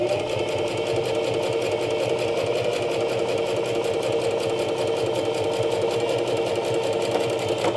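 A sewing machine stitches fabric for a small coin purse, a fast steady mechanical chatter running continuously and close up, with no voices.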